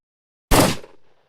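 A single close, loud gunshot, layered with a stereo distance mic recording, bursts sharply after a moment of silence and then trails off in a short rumbling tail.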